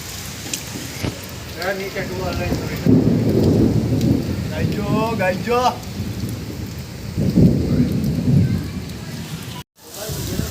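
Steady rain pours throughout a thunderstorm with lightning, rumbling low noise like distant thunder, while people talk over it; a brief dropout occurs near the end.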